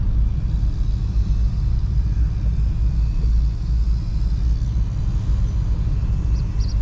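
Engine of a 2008 Ford Mustang GT with 206,000 miles while driving: a steady, deep rumble with constant road noise and no clear changes in pitch.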